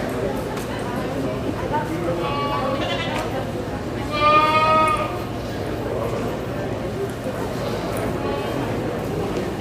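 Goats bleat at an annual goat show during a heavyweight commercial goat class. A few wavering bleats stand out, the loudest near the middle, over steady arena murmur.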